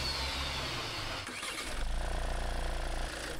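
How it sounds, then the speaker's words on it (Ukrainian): A Skoda with a two-litre four-cylinder engine cranks and catches, then settles into a fast, even idle rumble close by. "Запускаємо шкода, запускаємо Rolls-Royce."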